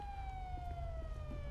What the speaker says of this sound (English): the siren turned off because it's annoying me